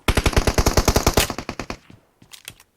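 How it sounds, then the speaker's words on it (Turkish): Rapid burst of M4 rifle fire in a video game, about a dozen close, loud shots in quick succession, then a short pause and a few fainter trailing shots. "Bana biri M4 de sıkıyor."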